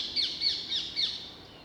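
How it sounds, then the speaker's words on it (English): Parakeets call on a late-November woodland walk around Petts Wood, giving four sharp, high chirps in quick succession at moderate distance over quiet outdoor background. "Albeit that the parakeets can be a bit irksome"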